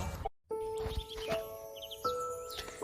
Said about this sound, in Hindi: सूरज की प्रथम किरण के साथ चिड़िया चहचहाने लगी।